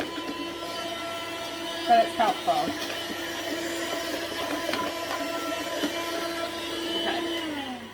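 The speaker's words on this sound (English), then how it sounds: "my first port of call is my little vacuum, and with this attachment on the end of it" A small handheld vacuum with an attachment on the end hums steadily and close while cleaning a Thermomix, with a few brief scraping bumps and a person talking over it.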